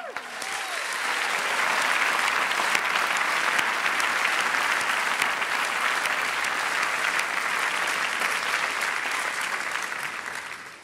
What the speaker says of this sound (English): she also got a rousing round of applause